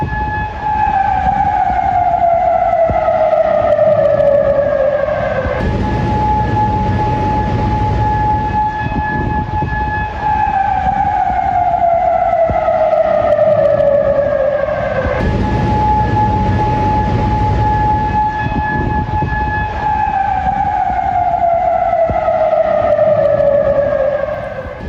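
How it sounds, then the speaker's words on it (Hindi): Sirens wail in Kuwait after Iranian attacks, a loud rising-and-falling warning tone that repeats in long cycles of about ten seconds, close and continuous with nothing else over it. "कुवैत में ईरानी हमलों के बाद सायरन बजते हुए सुनाई दिए हैं।"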